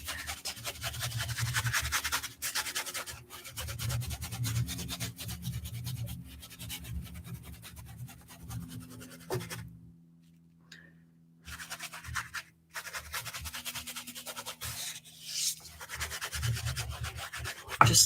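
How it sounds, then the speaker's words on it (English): A paintbrush scrubs paint into textured canvas with close, continuous scratchy rubbing strokes, broken by a few short pauses and a near-silent stretch midway. "I love just scrubbing it into the canvas texture."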